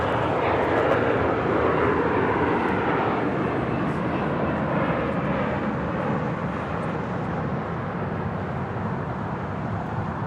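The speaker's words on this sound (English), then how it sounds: "Delta Airlines flight" Delta Airlines Airbus A319, about 20 years old, arriving from Las Vegas and landing at LAX, gives a steady broadband jet roar that holds fairly loud and even throughout, with no talk over it.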